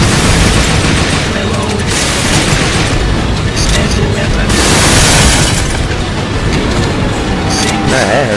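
Missile launcher explosions in the video game Dino Stalker make loud, continuous booming blasts that roll into one another at close range, with a voice talking over them.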